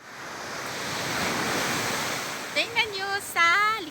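Loud waves crash and roar continuously, with wind rushing over the microphone; a voice speaks briefly near the end over the surf.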